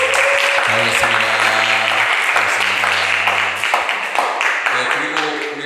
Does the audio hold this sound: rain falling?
no